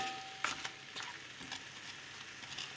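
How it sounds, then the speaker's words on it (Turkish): Diced beef sautés in a pan with a soft, steady sizzle and a few faint clicks, fairly quiet and close, without voices. "Kuşbaşı etini alttan kavurdum"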